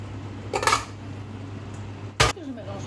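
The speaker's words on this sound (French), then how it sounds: "Et je mélange bien les deux choucroutes ensemble" Two batches of sauerkraut mixed together in a cooking pot, heard as two brief metallic clinks and scrapes of a spoon against the pot over a low steady hum.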